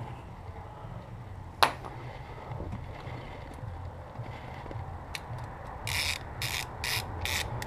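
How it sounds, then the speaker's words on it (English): A 5/16 ratchet tightens a loose hose clamp on a 2014 Subaru WRX intercooler during a boost-leak repair: a sharp click, a quiet stretch, then several short bursts of close ratchet clicking near the end, with no talk. "I'm gonna grab my 5/16 again, we'll tighten that up."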